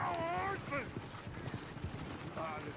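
Horse hooves clip-clop in Red Dead Redemption 2 beneath a voice speaking, irregular soft hoofbeats with some mechanical creaking of harness or a coach nearby.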